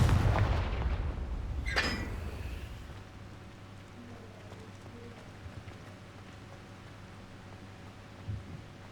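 Confringo spell blasts in the Hogwarts Legacy video game, a loud booming explosion with a sharp crack near the start that fades into a low rumbling tail, with a faint thud near the end.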